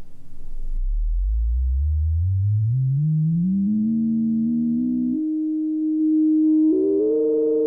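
A vintage synthesizer produces a deep bassy rumble that sweeps steadily upward in pitch as the filter moves, then settles into a held tone. It is smooth and sustained with no talking.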